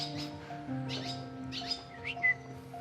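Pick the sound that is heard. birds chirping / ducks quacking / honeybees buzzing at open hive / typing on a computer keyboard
birds chirping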